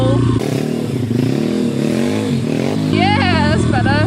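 A motorcycle practicing footbrake wheelies roars loudly and close with fluctuating revs, rising in pitch near the end, as clutch and brake are worked together.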